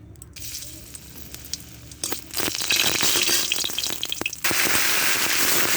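Dried red chillies hit hot oil in a pan with a loud, spreading crackle and hiss that grows busier and more intense, with sharp spitting pops throughout.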